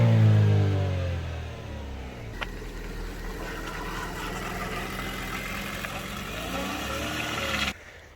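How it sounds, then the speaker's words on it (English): A Chevy Sonic LT engine cold-starts with a strong low rumble, then settles into a steady, fairly loud idle with light revving for several seconds before cutting off abruptly near the end. "This is a cold startup on a Chevy Sonic LT."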